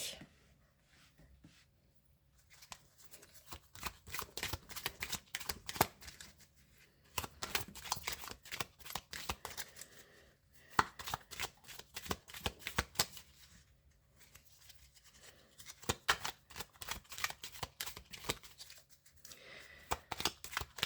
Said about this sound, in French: On va prendre 3 cartes pour vous.